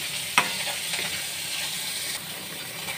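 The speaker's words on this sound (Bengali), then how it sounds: "ভাজা মাছগুলো দিয়ে আবার একটু ফোটাবো" A pot of eggplant, potato and taro curry with fried fish added bubbles and sizzles steadily at close range, with one sharp clink of a utensil near the start.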